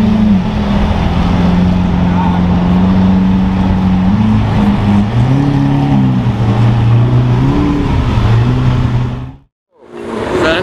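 All-wheel-drive Lamborghini Huracan Evo engine revving loudly nearby, with its pitch rising and dipping through several surges before briefly cutting out near the end, then picking back up.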